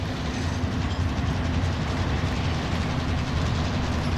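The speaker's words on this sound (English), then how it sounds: "Always be wary of the train." Train rumbling past with rhythmic clickety-clack of rail cars during a multiplayer shooter match, loud and close, a steady heavy roar filling the whole stretch with no talk over it.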